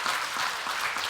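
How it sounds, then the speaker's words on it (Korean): A short burst of steady applause from a church congregation during a Sunday service, moderately loud and continuous. "함께 박수로 축복하겠습니다."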